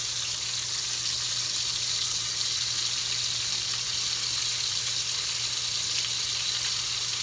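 Thick tomahawk pork chop searing in a hot pan, a steady, dense, close sizzle that holds evenly throughout with a low background hum and no talking.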